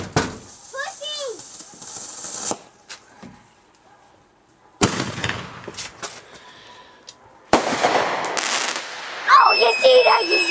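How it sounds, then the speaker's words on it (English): Fireworks burst repeatedly at a New Year celebration, with loud cracking blasts in several clusters and whistling rockets between them, while people shout and talk nearby. "each time the fireworks hit"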